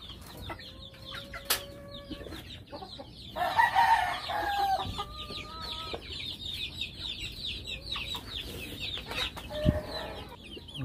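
Backyard chickens, including dominant blue hens, cluck steadily nearby while a rooster crows several times. The calls overlap against quiet outdoor ambience, and no one speaks.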